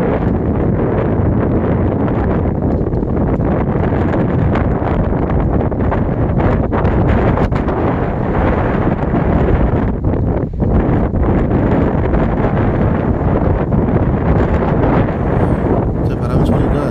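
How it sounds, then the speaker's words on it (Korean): Strong daytime wind roaring steadily outdoors, a loud, continuous broadband rush buffeting the microphone with gusty surges throughout, no voices. "낮에 바람 소리를 한번 담아 봤습니다"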